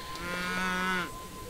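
A cow moos once in Age of Empires 3, giving a single clear, drawn-out low bellow that rises and falls over about a second against a faint background.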